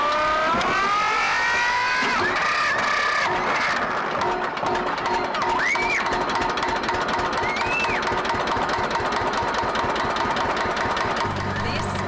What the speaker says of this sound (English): Sounds like no other Lamborghini in the world.